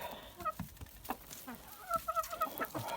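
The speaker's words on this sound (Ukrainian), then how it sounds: "Ми привезли наших легорнів." Leghorn chickens cluck in a short series of soft, rhythmic calls over a steady background murmur, close by and moderately quiet.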